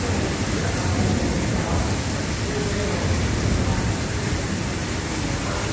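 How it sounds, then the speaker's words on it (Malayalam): Heavy rain pours steadily, with rainwater running into a gutter, making a dense, constant loud rush of broadband noise with no pauses. "മഴവെള്ളം ഗട്ടറിലേക്ക് ഒലിക്കുന്ന സംഭവം."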